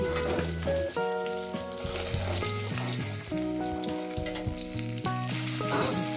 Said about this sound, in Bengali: মাছের মাথাটা ভাজা হয়ে গেছে